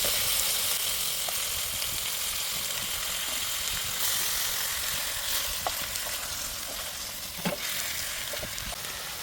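Chicken pieces sizzle loudly in a pan with ginger garlic paste, giving a continuous, close, hissing fry with occasional sharper crackles and spatters.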